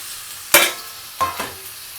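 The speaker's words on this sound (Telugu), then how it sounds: "మీడియం ఫ్లేమ్లో పెట్టుకుని ఫ్రై చేసుకోవాలి వీటిని." Ivy gourd (dondakaya) frying in oil in a pan over medium flame, a soft sizzle broken by a sharp stirring scrape and two quieter follow-up scrapes, no voices.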